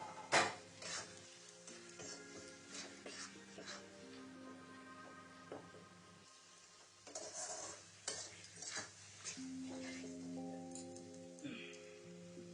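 Spice paste and chopped tomato sautéing in a pan for a village-style raw jackfruit curry, with a spoon stirring and clinking softly against the metal over a faint sizzle and a background hum.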